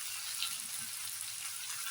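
Steady, close sizzle of spices frying in a pan for a Bengali home-style dish, a continuous bright crackle with no voices over it.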